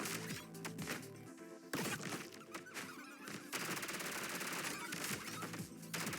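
A whole magazine emptied in the video game ODDCORE: rapid automatic gunfire in fast bursts, with sharp cracks layered over a busy game soundtrack, steady and loud for several seconds.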